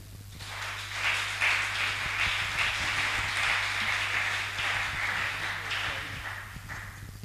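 A church congregation applauds to acclaim the Lord, a dense, sustained wash of clapping that swells quickly and holds steady for several seconds before easing slightly, with a low hum underneath.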